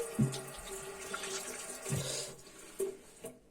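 Tap water runs into a sink as hands are wetted. It makes a soft, close splashing and trickling with a few light knocks, fairly quiet throughout.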